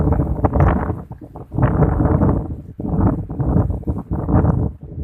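Strong gusty wind buffets the microphone outdoors while a three-sok-one-khuep Chula kite is flown, loud rushing surges rising and dropping in irregular bursts with no talk.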